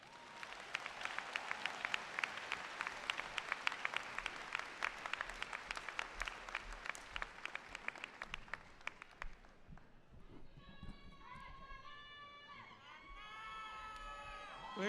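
Sustained applause from a large audience at a FAMU Fall 2021 commencement ceremony, dense and loud clapping for about ten seconds before it fades and a speaker's voice takes over.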